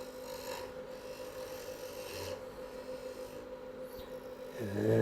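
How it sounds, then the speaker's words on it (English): A detail gouge cuts wood on a spinning lathe, producing a steady raspy scraping hiss over a low motor hum, moderately faint and continuous with slight variations in the cut. "This is the detail gouge here."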